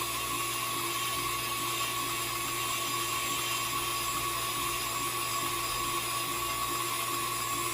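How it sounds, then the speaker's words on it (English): An electric blender or mixer runs steadily at high speed through sweet potato pie filling, whirring with a constant, continuous motor tone and no voices present. "Lock that in place, and then I'm going to blend."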